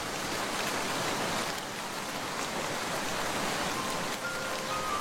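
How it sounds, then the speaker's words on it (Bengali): Heavy storm rain in a Bengali cartoon forest scene, a dense steady wash of pouring rain holding at constant loudness throughout with no voices over it. "এখন তো ঝড় বৃষ্টি হচ্ছে"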